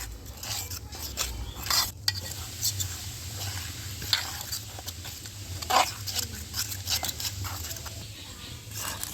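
Thick potato batter with a pinch of baking soda being mixed by hand with small additions of water, giving soft, irregular wet stirring and squelching with a few light bowl taps over a low steady background hum.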